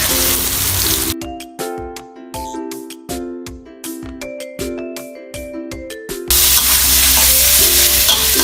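Pork belly fries in a pan with pounded curry paste, hissing loudly at the start and again at the end, while plucked melodic music plays prominently through the middle.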